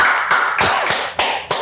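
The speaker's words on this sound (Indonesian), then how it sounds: "Beri tepuk tangan untuk Ferry Irwandi." Audience applause greeting guest Ferry Irwandi at a talk show, a dense burst of close, loud clapping with sharp sharper claps punctuating the steady wash.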